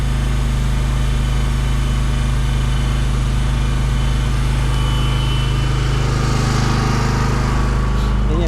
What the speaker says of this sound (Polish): Teraz jeszcze przez agregat filtracyjny puścimy całą oliwę do układu.